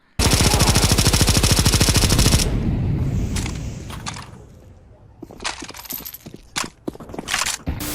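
A rapid burst of muffled suppressed machine gun fire in Counter-Strike 2 rattles for a couple of seconds, followed by scattered clicks, clatter and softer mechanical noises.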